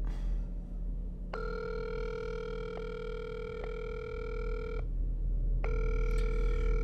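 Repeated electronic ring tones from a SpongeBob toy phone being called, two long steady bursts separated by a pause, clear and fairly loud over a low background hum, with no talking.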